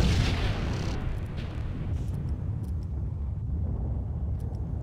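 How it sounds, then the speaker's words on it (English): A grenade blast in the video game Max Payne, a loud deep boom at the start that decays into a long rumbling tail. "Ooh, nice explosion"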